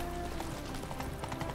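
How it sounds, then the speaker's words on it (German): Horse hooves clip-clop in a steady, brisk rhythm in The Witcher 3: Wild Hunt, close and continuous under game ambience. "Ein Pferd."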